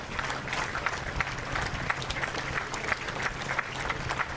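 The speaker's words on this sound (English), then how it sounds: "Everyone here along the parade route standing and clapping." Crowd lining a sunny grand parade route in 2019 applauds steadily, a broad wash of many hands clapping at a distance with scattered sharper claps over several seconds, no voices standing out.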